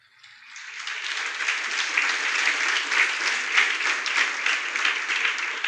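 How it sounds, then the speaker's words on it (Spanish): Congregation applause at a Wednesday church service in Barquisimeto, Venezuela: dense, steady clapping that swells in over the first second and then holds strong and even, with no talk over it. "Un aplauso, Señor."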